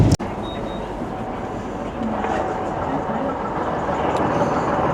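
Steady rumbling of a moving train from inside a carriage in Victoria, Australia, a continuous low roar with a sharp clunk at the start.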